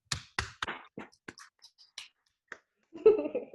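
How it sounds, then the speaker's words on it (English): Polite, soft golf clapping at the end of a group talk show: a sparse handful of light, separate hand claps and taps spaced unevenly, close and quiet, followed by a brief murmur of voices. "I was golf clapping, man"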